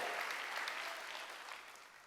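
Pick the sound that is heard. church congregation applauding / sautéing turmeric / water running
church congregation applauding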